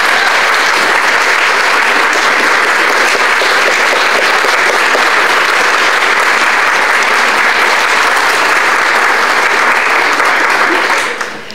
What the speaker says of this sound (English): for everybody to give them applause and love and attention